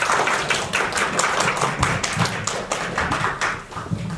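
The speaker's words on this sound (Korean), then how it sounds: "여러분들 큰 박수로 우리 이상열 본부장님을 환영하도록 합시다" An audience claps to welcome a speaker onto the stage at a talk event. The applause is a dense, brisk patter of many hands, fairly close and steady, then dips briefly near the end.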